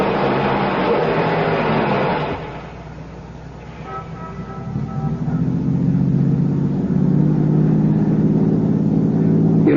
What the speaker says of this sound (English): Start your car, head west of the highway, and keep going till I tell you to stop.